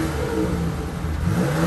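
A 2021 Jeep Grand Cherokee L SUV engine revs outside the vehicle, giving a steady, continuous mid-level engine drone with a slight rise in pitch, close and fairly loud, with no talk.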